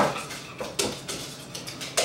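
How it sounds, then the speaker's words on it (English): A whisk scraping and stirring vanilla custard filling in a pot, heard as a run of quick, close metallic swishes and taps that rise and fall in uneven strokes. "get your whisk out because you don't want it to solidify"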